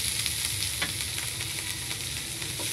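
Garlic and onion sautéing in oil, a steady, close hiss of sizzling that holds evenly throughout, with a faint stir or tap now and then and no speech.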